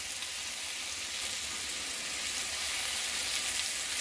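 Pork medallions and apples fry in a wood-fired oven, giving a steady, close, bright sizzle with continuous crackling spatter that holds level and swells slightly toward the end, with no voices.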